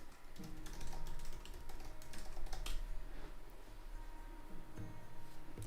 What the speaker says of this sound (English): Typing sideways.